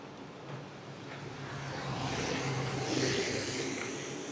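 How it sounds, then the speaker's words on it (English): A bus approaches from behind on a road near Aguas Calientes and rumbles past, swelling from a low drone to a broad roar that peaks near the end. "let's film and see how much space I get when the bus comes by"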